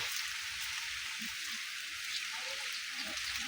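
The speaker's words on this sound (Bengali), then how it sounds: "বৃষ্টি হচ্ছে আকাশে অনেক মেঘ" Steady rain hisses softly and evenly over a papaya orchard, a faint wash of falling drops with a few quiet background sounds beneath.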